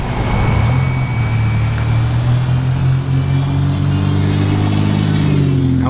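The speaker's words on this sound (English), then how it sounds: "Crossing the street there can be kind of tricky because you have too many cars" Vehicles pass close by on a busy street near the Anahulu Bridge on Oahu, with a loud, steady engine roar and tyre rumble that swells and shifts as the cars go by, and no talking.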